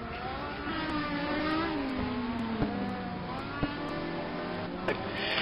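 Race car in an ETC Black Cup test race lapping the circuit, its engine revving hard with pitch sweeping up and down through gear changes, a steady loud whine with a few sharp clicks.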